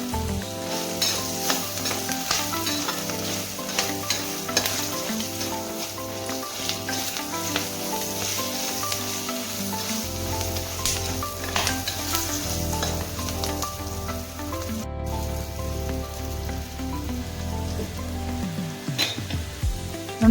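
Rice seasoning with salt and turmeric is stirred in a frying pan, giving a continuous sizzle with a crackling texture and a spoon scraping rhythmically against the pan. No voices are heard.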